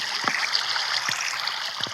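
Flowing water in Minecraft, a soft continuous trickling stream with faint gurgles, quiet and steady throughout.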